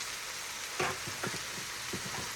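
Butter melts and sizzles in a hot cooking pan, a steady close hiss broken by a few soft scraping, stirring taps, with no talking.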